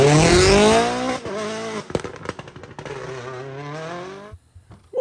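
A WRC rally car at Rally Japan 2023 roars past on a road section near the shakedown, its engine note rising loudly and sweeping down as it passes close by, then fading off, with no talk over it.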